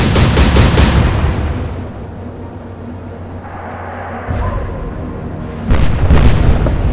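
Heavy naval guns firing in the Atlantic Fleet game during an alternate Battle of Jutland: a rapid series of deep booms opens, then rumbling quiet, followed by a later burst of loud blasts and impacts.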